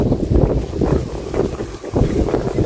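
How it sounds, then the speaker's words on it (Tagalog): Wind blows hard across the microphone at the seaside in Oslob, Cebu, a loud, gusty rumble that holds through the whole moment with no talk. "Lami dani kay hangin, presko."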